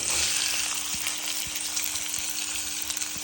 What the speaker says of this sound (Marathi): कढईमध्ये तेल तापून घेतलं आता आपण त्यात बारीक चिरलेला लसूण घालू आणि एक बारीक चिरलेला कांदा घालू